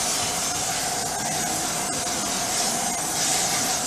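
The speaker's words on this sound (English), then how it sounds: "I just got a nice little foil pan that I'm gonna spray" Cooking spray hisses steadily into a foil pan for Southern cornbread dressing, a continuous close, even spray lasting several seconds with no talk over it.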